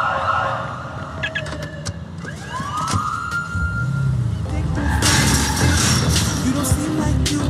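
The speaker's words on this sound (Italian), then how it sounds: "La polizia è in arrivo." Police sirens in the Watch Dogs 2 video game rise and sweep as they approach, wailing over traffic noise and growing louder toward the end, with a voice talking underneath.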